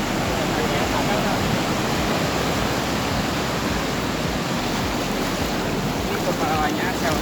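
Ocean surf at a beach, a steady loud roar of waves with wind buffeting the microphone throughout.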